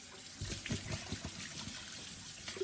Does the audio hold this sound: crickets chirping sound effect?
no